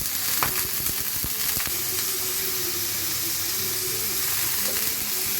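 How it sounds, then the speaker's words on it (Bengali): Onion and chili frying in a pan while preparing a bottle gourd dish, a steady bright sizzle with a few sharp clinks of stirring early on, close and continuous with no talking. "একটু পেঁয়াজ আর মরিচ ভেজে নিচ্ছি"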